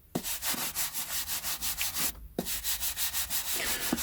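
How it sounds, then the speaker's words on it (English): Close, rhythmic brushing over the edges of a stack of vintage paperback books, about three quick dry rasping strokes per second with a short pause partway, and no talking. "let's give this last stack a brush"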